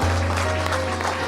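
An audience claps steadily at an Independence Day poetry event, dense continuous applause filling the short moment with no pauses.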